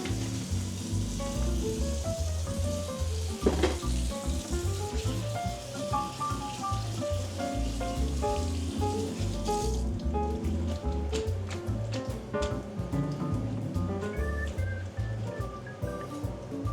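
Brussels sprouts, fresh from a cold-water rinse, sizzle steadily in a hot pan on the fire, a continuous dense crackle with no talking over it.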